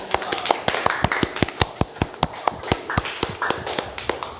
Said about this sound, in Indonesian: Ya, tepuk tangan buat yang tadi yang sudah menjawab.